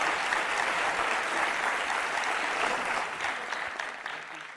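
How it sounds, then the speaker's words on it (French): An audience at a French comedy show applauds in a dense, sustained wash of clapping, moderately distant and even, easing off slightly toward the end. "Vas-y, on peut applaudir, hein?"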